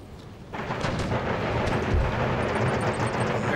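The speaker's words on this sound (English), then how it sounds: "There goes my rockets." Rockets launching in the Darthmod Empire battle game: a sudden loud whooshing roar begins after half a second and keeps rumbling steadily, with faint high whistles near the end.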